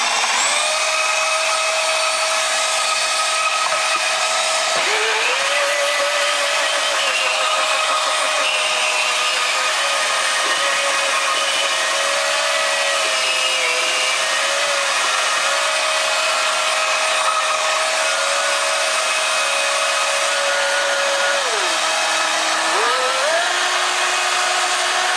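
Vitamix blender motor running steadily while mixing a raw tahini ginger dressing, a loud continuous whine that holds one pitch, dips briefly near five seconds and again near twenty-two seconds, then recovers, with no talking.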